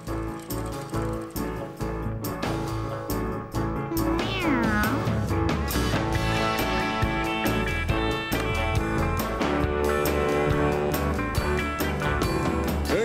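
Cat meows sound over loud, busy music that plays continuously, with the mewing cries rising above the dense backing, in a Postman Pat children's cartoon.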